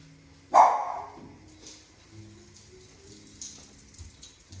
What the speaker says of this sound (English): There's the dog in the background.